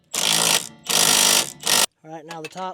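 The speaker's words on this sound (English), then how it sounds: "now we can tighten down the two main shock bolts" Two long bursts of a pneumatic impact wrench tightening the main shock bolts on a 2006–2012 Toyota RAV4 4WD, loud and close, followed by a shorter burst and then someone briefly speaking.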